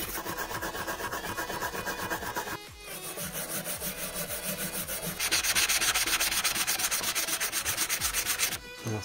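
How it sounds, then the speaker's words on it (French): A small brush scrubs rust off a very rusty vernier caliper in quick, rhythmic strokes, making close, gritty rasping that pauses briefly once and turns harsher and brighter toward the end. "On va essayer de le reprendre délicatement avec la petite brosse"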